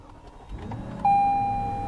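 A 2021 Toyota Land Cruiser starts up from inside the cabin: quiet rustling gives way to the engine catching with a sudden rise in low rumble, while a steady electronic chime sounds over it.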